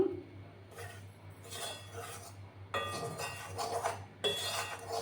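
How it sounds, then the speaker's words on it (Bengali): A spatula scrapes and clinks against a pan while atta and desiccated coconut powder are stirred and dry-fried, soft rhythmic rasping strokes with occasional metallic taps, close and quiet, with no talking. "একটু সময় নিয়ে হালকা করে ভেজে নিতে হবে অনবরত কিন্তু নাড়াচাড়া করে যেতে হবে"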